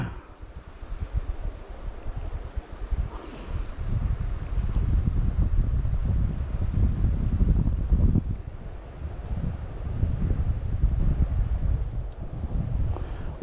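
Wind gusting beside a river while steelhead fishing, a continuous low rumbling buffet that swells and eases for over ten seconds, close and fairly loud with no talking.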